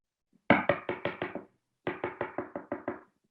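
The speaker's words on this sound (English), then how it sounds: "And then he knocked on a door." Two bursts of firm knuckle knocks on a door, six or seven quick raps each, close and clear, separated by a short pause.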